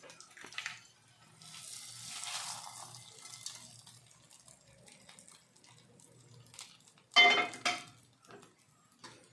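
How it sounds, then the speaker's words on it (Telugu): Gongura tempering is stirred into cooked rice in a metal vessel, giving soft scraping and shuffling with light clinks and one louder clatter near the end. "చక్కగా అంతా రైస్ అంతా పట్టేటట్టు ఇలా కలిపేసుకోండి"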